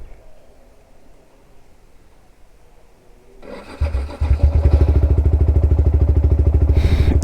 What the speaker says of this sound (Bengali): প্রত্যেক দিন 5-6 বার সেলফ মারার পর তারপরে গিয়ে বাইক স্টার্ট হচ্ছে